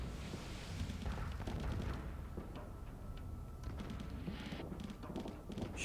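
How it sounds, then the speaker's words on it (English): Howler cannon fire in the Starsector space combat game, a dense run of booming, rumbling shots with crackling bursts layered over one another, loud and continuous throughout with no gap. "I like the sound that Howler cannon's doing."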